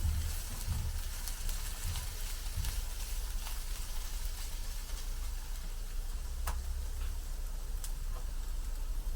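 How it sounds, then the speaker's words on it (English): Chopped onion sautéing gently in a cast iron pan in a wood-fired oven setting, a faint, even hiss of sizzling with a low rumbling background and occasional light ticks from stirring. "we're just going to saute this onion off"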